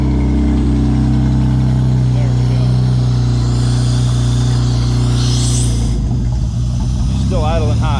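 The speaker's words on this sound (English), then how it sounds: "Still idling high." A J35 engine swapped into an SU Ultralight idles high at its first start, a loud, steady mechanical drone close by, and a voice speaks over it toward the end.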